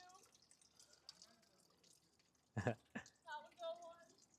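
Coolant draining and dripping from a C4 Corvette engine during a ZZ4 cam swap, a few wet splashes and drips standing out over a quiet garage background, with people talking nearby.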